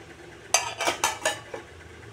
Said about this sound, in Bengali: এই যে আমি তাওয়াটা বসিয়ে দিলাম